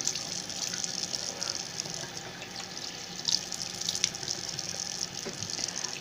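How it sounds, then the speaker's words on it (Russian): Tap water runs steadily into a sink as someone washes their face during a daily skincare routine, a close, continuous splashing hiss with small irregular splashes and no talk. "Я умываюсь."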